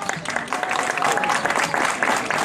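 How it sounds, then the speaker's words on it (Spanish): A crowd at an outdoor neighbourhood parade event for 18 September claps for a teacher giving a historical talk. The applause is dense and steady, with a faint whistle-like tone and murmuring voices mixed in. "Un fuerte aplauso para ella."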